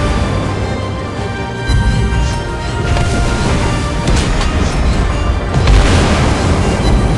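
Destroyer guns booming in the World of Warships Blitz naval game, aboard the Tier 8 Amatsukaze, heard as a dense continuous barrage of heavy blasts and rumble over background music, loud throughout with a stronger burst near the end.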